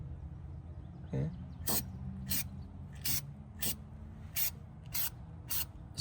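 Short bursts of an aerosol spray hiss at regular intervals, about eight of them, close and crisp, as product is sprayed onto the seams of Nissan 240SX front suspension parts over a low background hum.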